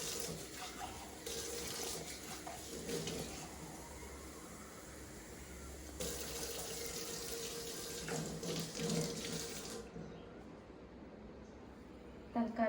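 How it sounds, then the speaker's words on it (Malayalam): A kitchen tap at home runs in a steady, loud rushing stream, swelling and easing a few times before cutting off near the end, leaving a quieter room with faint background sounds. "വെള്ളം ചീറ്റാലേ"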